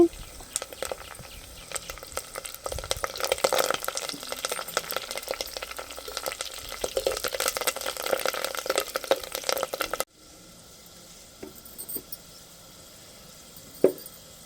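Onion and curry leaves fry in hot tempering oil for Nellore-style brinjal bajji, a steady crackling sizzle for about ten seconds before it drops to a quieter hiss with a couple of soft clatters near the end.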